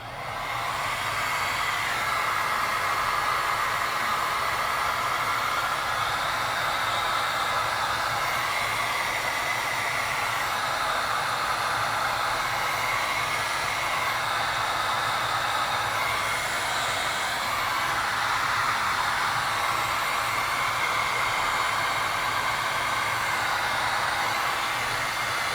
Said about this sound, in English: And then heat shrink this one.